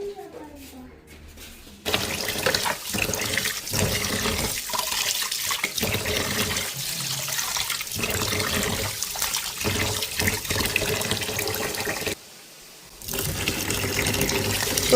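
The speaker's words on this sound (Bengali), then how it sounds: "তো ভালো করে চালগুলো আমি ধুয়ে নিচ্ছি" Rice being washed in water, a continuous rushing and sloshing of water with a brief pause near the end, while voices talk in the background.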